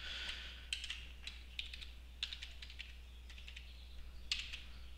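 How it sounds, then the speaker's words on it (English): Keys clatter on a computer keyboard as a password is typed, quick irregular bursts of faint close clicks over a low steady hum, with no speech. "I'm going to go ahead and retype the same password."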